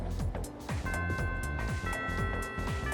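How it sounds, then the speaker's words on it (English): A school chime rings in the Persona 3 Reload video game, clear tonal bell notes repeating over a few seconds above a busy low rhythmic backing, fairly loud with no talk. "The first bell has rung."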